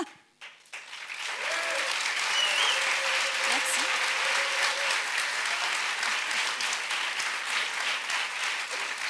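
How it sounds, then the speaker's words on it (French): An audience at a festival applauds loudly for about nine seconds, a dense, sustained clapping that swells quickly after a brief start and stays steady. "on va faire un niveau d'applaudimètre si vous voulez bien"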